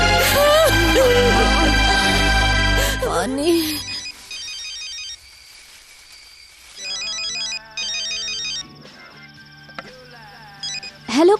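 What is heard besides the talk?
telephone ringing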